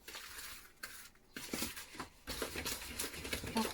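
Easter bread dough ingredients are ground together in a bowl, giving close, irregular scraping and rubbing strokes with light clinks against the bowl.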